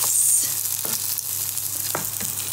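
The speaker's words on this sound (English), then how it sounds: "Listen to it sizzle." Shaped fish cakes frying in a hot pan give a loud, steady close sizzle with a few soft clicks and pops over the crackling hiss, no voices.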